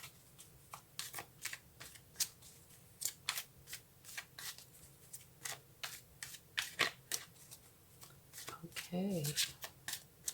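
Tarot cards shuffled in a run of quick crisp riffles and snaps, close and fairly loud, with a single short spoken word partway through.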